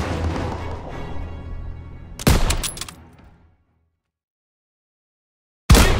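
Gunfire in a Call of Duty WWII battle: a loud burst of rapid shots and booms, then a fading rumble, a stretch of near silence, and another sudden loud volley at the end.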